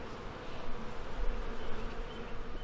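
Honey bees buzzing inside a hive during an oxalic acid vapor treatment for varroa mites, a dense, steady droning hum with fluctuating loudness, close and alone.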